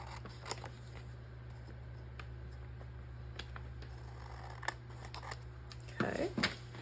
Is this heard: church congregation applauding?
no